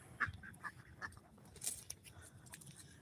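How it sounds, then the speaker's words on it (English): Farm ducks settling down for the night give several faint, scattered quacks and honks against a quiet, low background hum. "those are some of our ducks and chickens going to bed"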